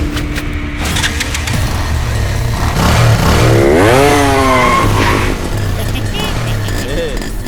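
A motorcycle engine revs loudly in rising and falling surges, with a sliding pitch in the middle, under and between bursts of talk and dramatic background sound.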